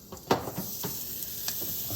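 Steak searing in a hot cast iron pan inside an indoor VEVOR stainless steel pizza oven, with a steady close sizzle and crackle broken by a few sharp pops and clanks of the pan.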